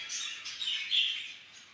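Birds chirp in a breeding room, a brief, continuous bright twittering heard close and alone.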